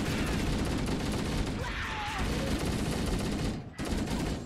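Assault rifle fire in Halo CE: loud, continuous automatic bursts fill the whole stretch, with a brief dip near the end before firing resumes, mixed with game explosions and clamor.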